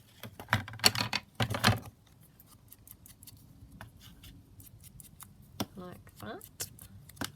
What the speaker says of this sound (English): now I take my little circle and just cut around there